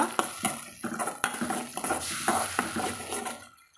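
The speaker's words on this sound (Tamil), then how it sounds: "நம்ம தக்காளி நல்லா பச்சை வாசம் போக நம்ம வதக்கி விட்டுக்கலாங்க" Onion, ginger garlic paste and ground tomato are stirred and sautéed in a pan for a vegetarian pepper fry, with close scraping strokes and a soft sizzle at a steady stirring rhythm.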